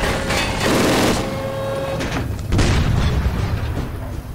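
In the Mafia 2 video game, a tank shell lands as a heavy booming explosion. Deep rumbling bursts fill the whole clip, with a second loud impact midway and continuing low debris noise, and there is no talk.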